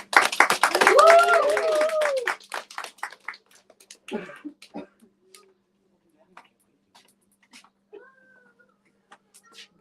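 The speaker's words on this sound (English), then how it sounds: "So let's give a round of applause for Coach." Applause for a speaker at a morning youth gathering: dense clapping with a few whooping voices for about two seconds, then thinning out to scattered claps and near silence.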